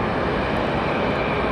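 Jet engine roar from an Aeromexico Boeing 737-800 in new livery at Raleigh-Durham airport, a steady loud broadband rumble filling the brief moment without voices.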